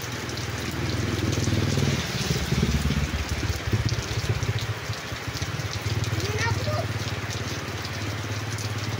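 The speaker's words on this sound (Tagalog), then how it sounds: "pero ngayong hapon as usual maulan na guys" Afternoon rain pouring onto a road in Elyu, a dense steady patter and wash that runs throughout, with a low engine-like hum underneath and faint background sounds.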